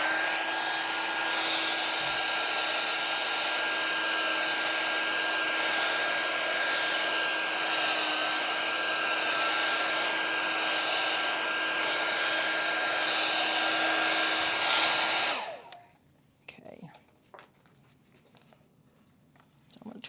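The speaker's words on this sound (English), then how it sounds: "I'm going to use my hairdryer real quick here" A hair dryer blows with a steady, loud whooshing hum for about fifteen seconds, then shuts off, leaving quiet room noise.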